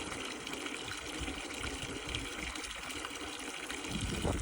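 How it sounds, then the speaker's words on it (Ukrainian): A pump draws water from a borehole, giving a steady, continuous rushing gush of water that stays at an even level throughout, with no voices. "А бісінка вже практично прокачана. зараз вона насос докачає."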